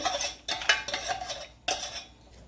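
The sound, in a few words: stirring sugar, khoa and besan in a kadhai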